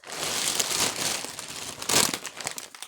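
Plastic bag crinkling and rustling steadily while groceries are unpacked, close and fairly loud, with a sharper crackling burst near the end and no speech.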